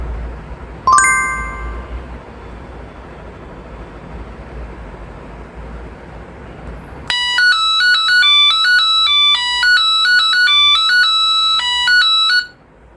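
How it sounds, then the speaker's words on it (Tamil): A brief chime, then after a pause a water tank overflow alarm buzzer plays a loud, repeating melodic tone pattern for several seconds before cutting off. "இப்போ பஸ்ஸர் அடிக்கும்."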